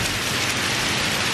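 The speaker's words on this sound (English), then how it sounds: "It doesn't rain like this in Portland, which is the only other place that we would live." Heavy rain pours steadily in the American South, a dense, unbroken hiss of drops close by that holds at an even, fairly loud level throughout, with no voices.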